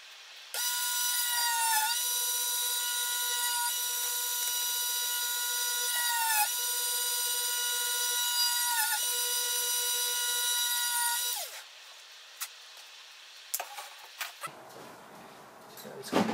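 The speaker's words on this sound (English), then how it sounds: "So I'm just gonna drill a little bit another hole on the top of that hole." A small power drill boring a hole into a popsicle stick as part of a Tamiya Mini 4WD body build, a steady high whine held for about eleven seconds with a few brief dips, then stopping and giving way to light handling clicks.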